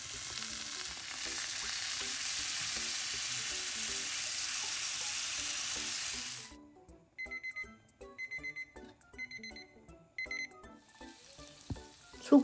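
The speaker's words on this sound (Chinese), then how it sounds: "翻面，再加一点点的水， 再煎5分钟。" An English muffin fries over low heat in a covered pan with a few drops of water, making a loud, even sizzle for about six seconds. It then cuts to near quiet with soft chiming tones.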